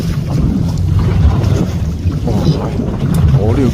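A boat moves across open water near Hong Kong, close to the Hong Kong–Zhuhai–Macau Bridge and an artificial island, with steady engine-and-wash rumble and wind buffeting the microphone. A voice talks faintly underneath.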